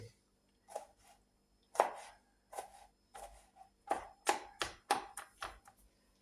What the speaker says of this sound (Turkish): gördüğünüz gibi domateslerimi doğradım